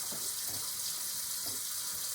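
Water runs steadily from a sink faucet over hands being rinsed before soaping, a continuous close hiss with faint splashing shifts, heard alone.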